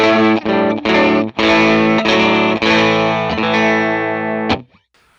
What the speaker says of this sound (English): Right, into the Matchless DC30 number into channel 1.